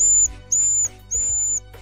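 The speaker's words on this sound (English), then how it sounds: "you're able to pull the whistle and get a successful whistle sound" Three sustained high-pitched whistle blasts from a Mamod toy steam engine, each lasting about a third of a second, separated by short gaps with faint hissing steam underneath.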